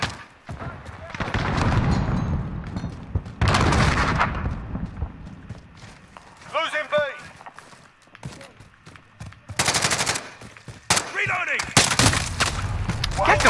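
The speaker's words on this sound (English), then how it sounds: "He's shooting at you and he killed me." Gunfire in Call of Duty: Modern Warfare online play, with bursts of shots and loud impacts coming in several clusters, mixed with game sounds and voices talking through the action.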